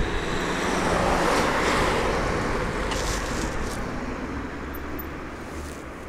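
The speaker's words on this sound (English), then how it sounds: "A little wind here, cool, but the sun is out" Wind blows outdoors on a cool, sunny morning in Medjugorje, a steady broad rush buffeting the microphone at fairly high level, easing slightly toward the end, with no talk.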